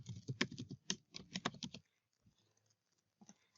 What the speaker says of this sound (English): So type in the email address and below you type in the password.